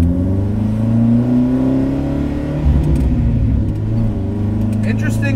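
The four-cylinder engine of a 1969 Lancia Fulvia Rallye 1.6 HF rumbles loud and close from inside the car, its grumbling pitch climbing and easing through several seconds of revving.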